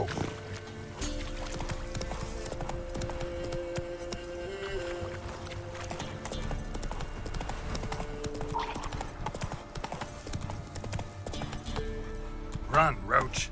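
The horse Roach galloping in The Witcher 3, a steady fast clip-clop of hooves throughout, with game voices and music layered over it.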